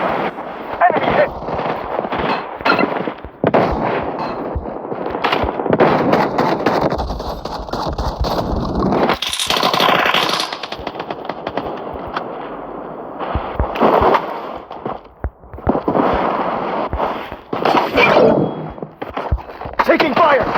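Auto shotgun firing Dragon's Breath rounds in a video game, rapid loud blasts in repeated bursts with short gaps, mixed with game effects and voiced callouts.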